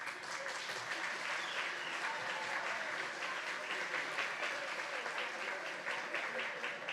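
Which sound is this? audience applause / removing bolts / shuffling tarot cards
audience applause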